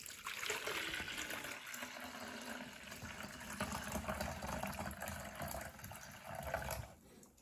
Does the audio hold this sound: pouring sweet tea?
yes